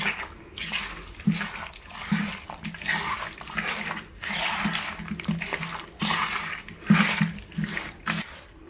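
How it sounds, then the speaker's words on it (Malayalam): Mackerel is mixed by hand with salt and coconut oil, giving wet squelching and slapping bursts at an uneven rhythm, close and moderately loud with brief pauses between, no talk. "എന്നിട്ടിത് നല്ല പോലെ കൈ കൊണ്ട് മിക്സ് ചെയ്യണം."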